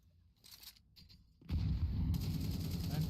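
Gunfire from a professional Counter-Strike 2 match between G2 and FURIA, starting quieter with scattered shots, then a loud sustained burst of rapid firing and blasts from the midpoint onward.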